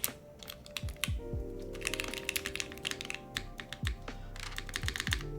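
A Ciel65 mechanical keyboard with tactile switches and O-rings, typed on in quick bursts of close, crisp clacks and taps, with pauses between runs of keystrokes and no voices.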